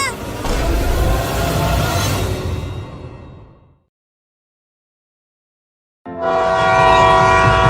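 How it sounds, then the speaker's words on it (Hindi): A cartoon train roars past loudly, fades into a few seconds of silence, then returns with a blaring, tonal horn blast at close range. "अरे आदमी थोड़ा जल्दी निकालना, ट्रेन आ गई।"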